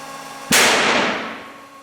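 An aramid Dynalight cable snaps during a break test: a single sharp, loud crack, close by, followed by a long decaying rush of noise, with no talking.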